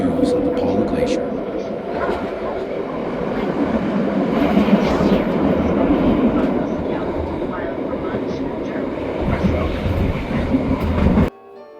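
The Bernina Express rumbles through the Swiss Alps, its wheels and carriages giving a steady rattling drone with faint clicks throughout until it stops abruptly.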